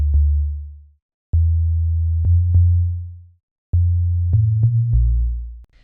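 A wavetable synthesizer plays a sub bass pattern with a pure sine wave, long low sustained notes in a repeating rhythm with short gaps between phrases, loud and clean with faint clicks at note starts.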